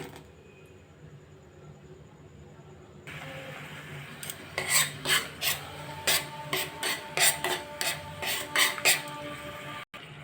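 Sago pudding is stirred in a pot as milk boils, making a series of rhythmic scraping and rasping strokes of a spoon against the pan over a quiet kitchen background.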